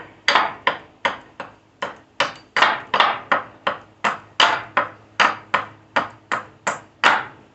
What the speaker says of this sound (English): notice I'm chopping this side, then chopping this side